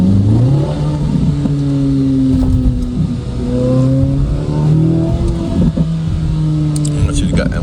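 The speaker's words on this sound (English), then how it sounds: "So I want to get around this car, or get from behind this car so you guys can hear the engine." A sports car engine in sport mode accelerates repeatedly from inside the cabin, loud and close, its pitch rising and dropping through several gear changes, with passing road noise.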